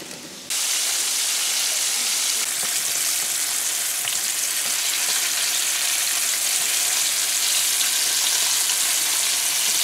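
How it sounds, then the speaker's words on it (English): Butterfish fries in hot oil in a pan, a steady, loud, dense sizzle and crackle that holds evenly for about ten seconds after a brief quieter start. "So we have finished frying the fish, guys."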